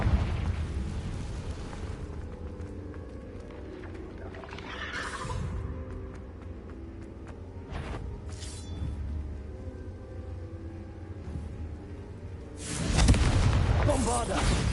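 Confringo spell blasts from the Hogwarts Legacy video game, three booming explosions spaced several seconds apart. The last and loudest one lands near the end, over a steady rumbling game background.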